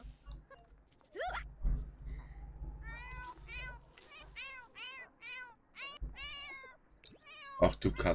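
Cat in The Sims 4 meowing repeatedly, a run of close, clear game meows in quick succession with short pauses and a few soft game noises between.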